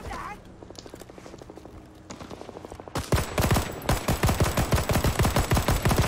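Rapid bursts of automatic gunfire in the Vietnam War shooter Rising Storm 2, with ARVN weapons firing in a steady fast rhythm that grows louder and denser partway through, close and continuous.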